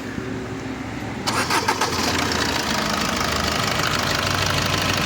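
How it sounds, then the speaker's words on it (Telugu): A 2016 Maruti Baleno Zeta's warm engine cranks and fires about a second in, then settles into a steady close idle with some light knocking. "ఇంజిన్ ఆఫ్ చేశాను మళ్ళీ స్టార్ట్ చేస్తున్నాను"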